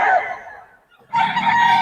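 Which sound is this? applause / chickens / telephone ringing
chickens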